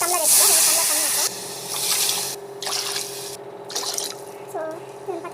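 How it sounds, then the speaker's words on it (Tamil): Two tumblers of water splashing and hissing into a pot of fried spices in several separate pours, close and fairly loud, with brief pauses between them. "2 டம்ளர் தண்ணி ஊற்றுறேன்."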